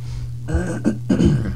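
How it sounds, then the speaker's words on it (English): A man clears his throat twice in short, rough bursts over a steady low hum, close and fairly loud, with no words spoken. "can't clear my throat for the life of me"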